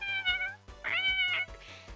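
A cat meows repeatedly, three or four short plaintive cries in quick succession, close and clear over a low background thump.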